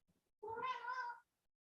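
A single clear, close cat meow, drawn out and tonal for under a second, breaking into an otherwise quiet room during a school board meeting.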